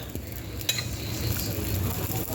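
Oil sizzling in a pan while chapati cooks over a fire at home, a steady close crackling hiss with a faint clink near the start.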